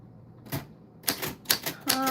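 Several sharp mechanical keystrokes from a typewriter, struck singly and then in a quick cluster of three or four close clacks, ending with a brief ringing tone, nearby and without speech.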